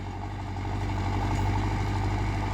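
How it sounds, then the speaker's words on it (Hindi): A 60 hp Arjun 605 DI tractor engine drives a rotavator in second low gear, a loud, steady diesel drone with a constant low throb and no speech. "अब देखिए कितनी मस्ती में चल रहा रूटावेटर, ये दूसरे के लो में चला रखा है"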